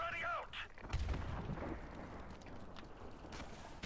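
Rocket launcher blast in Call of Duty Modern Warfare: a heavy booming explosion lands about a second in, then trails into rumbling debris and scattered gunfire, with a brief voice heard near the start.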